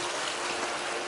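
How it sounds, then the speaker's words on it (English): A waterfall water feature in Rome pours in a steady, dense, close-up rush of falling water. The level stays even throughout and there is no talk. "Waterfall."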